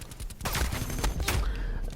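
AK-74U gunfire from Call of Duty Cold War, loud dense bursts of rapid shots packed closely together across two seconds, with faint game sounds behind.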